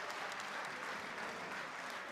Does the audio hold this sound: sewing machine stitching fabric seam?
no